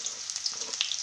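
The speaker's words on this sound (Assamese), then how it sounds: "তেল গৰম হ'ল, আমি এতিয়া ইয়াত পিঁয়াজ এড কৰিম।" Onions sizzle in hot oil in a pan, a brief close crackling hiss with small spattering pops, no voices.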